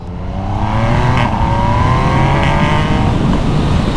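A Yamaha MT-09 motorcycle fitted with a cheap aftermarket exhaust, a replica SC Project line, revs up close by, its loud engine note climbing steadily in pitch and then holding high without anyone speaking.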